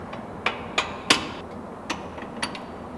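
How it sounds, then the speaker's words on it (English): A mallet strikes car suspension parts during a coilover install on a Subaru WRX: five or six sharp, separate knocks at uneven spacing, close and fairly loud against a quiet garage background. "And then we mallet."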